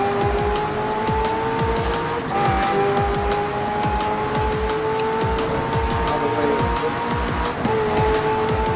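Race car engine in Forza Horizon 4 revving hard at speed, with steady tonal engine drone and repeated tire squeal, loud and close throughout with no talking.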